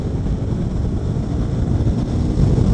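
A 2017 KTM RC 390 motorcycle accelerating hard, heard mostly as heavy, close wind buffeting over a low engine rumble that stays steady and slightly swells toward the end, no voices.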